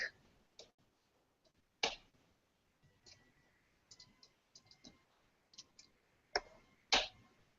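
Scattered clicks of a computer mouse during a scouting training session, sparse sharp taps spaced irregularly, some louder and some faint, close by with no talking.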